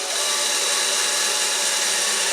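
Power drill driving 1 1/4 inch screws into a wooden storage cabinet, a steady high-pitched whir held throughout, close and loud with no pauses.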